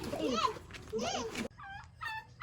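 A turkey's gobbling calls ring out close by, with a voice talking over the first half and sharper calls following alone.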